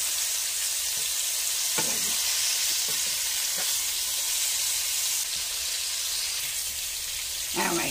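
Ground turkey meat patties frying in a pan, a loud continuous sizzle and hiss with occasional soft clicks and scrapes of stirring, no voice over it.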